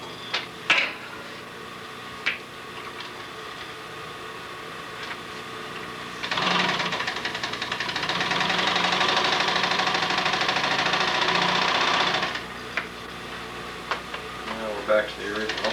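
A sewing machine top-stitches boot leather in one steady run of about six seconds, its rapid motor whir rising loud mid-clip between quieter stretches with faint handling clicks.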